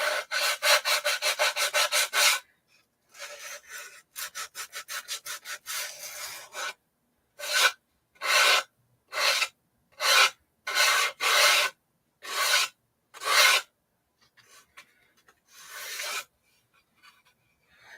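Hand sanding of rough spots on a wooden craft piece, a run of rapid rasping strokes followed by slower, evenly spaced scrubbing bursts, close and fairly loud with no talking.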